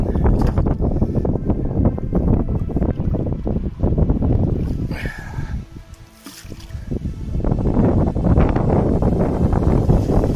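Strong wind buffeting a microphone while paddling a boat on water, a loud continuous rumbling roar that dips briefly midway before surging back, no talk.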